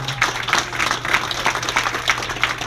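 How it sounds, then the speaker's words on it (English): Applause breaks out from an audience at a gathering honoring soldiers and a care-package drive for troops: a dense, steady patter of clapping that stays fairly loud throughout, over a low electrical hum. "Round of applause for being here."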